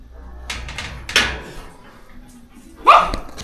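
Belgian Malinois dogs give a few short, sharp barks in separate bursts, with quiet gaps and faint background noise between them.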